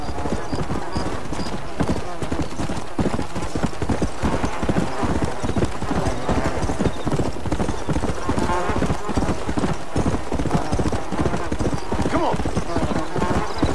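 Horse hooves clip-clop steadily in Red Dead Redemption: Undead Nightmare, a continuous galloping rhythm with occasional neighs, close and loud, with someone talking over it throughout.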